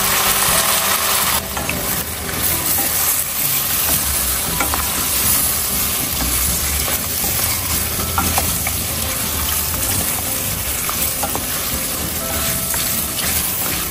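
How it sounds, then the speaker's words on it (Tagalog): Pork ribs fry in a pan with browned aromatics, giving a dense, continuous loud sizzle and crackle throughout, with steady stirring noise and no pauses. "ilagay na po natin ang ating pork ribs"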